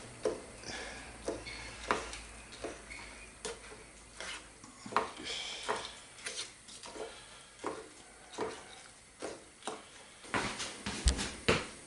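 Food being stirred in a pot in a home kitchen, with dried peas added to the cooking: repeated clinking and scraping strokes at a steady, uneven rhythm, close and moderately loud, with no talk.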